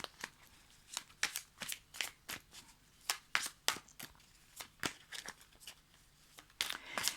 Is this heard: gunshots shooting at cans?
no